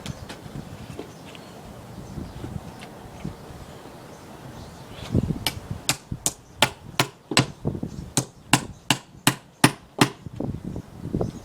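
Chisel strikes bite chunks out of a wooden log being hollowed into a Japanese trunk beehive, a quick regular series of sharp knocks beginning halfway through, close, over quiet outdoor background with a few softer earlier taps.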